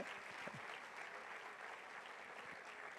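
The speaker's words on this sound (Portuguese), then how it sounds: "Aplauda Jesus, vai virar uma bola de fogo." A church congregation applauds during a sermon, a steady broadband wash of clapping that holds evenly throughout, with faint voices mixed in.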